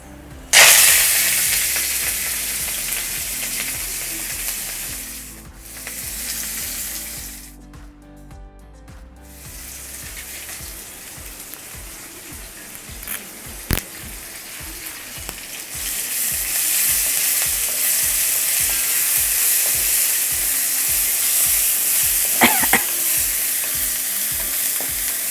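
Crushed shallots, garlic, ginger, green chili and curry leaves fry for a jackfruit curry. A loud hiss starts, drops away briefly and then returns as a steady sizzle, with rhythmic stirring and scraping near the pan.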